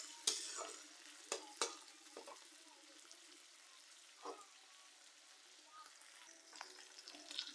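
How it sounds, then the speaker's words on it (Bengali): Dried shutki fish frying in a pan, with a faint, steady low sizzle broken by sharp clinks and scrapes of a utensil stirring, heard close and without voices. "খুব সুন্দর করে ভেজে নেব শুটকিগুলো।"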